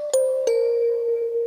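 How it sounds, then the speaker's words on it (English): Music Box Magic preset from the Unclean Machine library in Omnisphere: two bright, bell-like plucked notes in quick succession, with a clear ringing tone that sustains and slowly fades. "the sound I'm going to be using is going to be this Music Box Magic from the Unclean Machine preset in Omnisphere"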